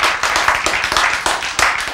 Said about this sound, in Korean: 하나님께 박수 한번 해야 되겠어요